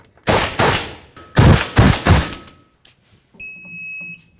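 A torque wrench clicks while tightening the front caliper bolts on a 2004-2008 Ford F-150 to 148 foot-pounds: several loud, close, sharp bursts in quick succession, then a short steady electronic beep.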